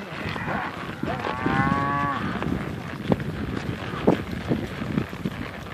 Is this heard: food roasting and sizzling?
no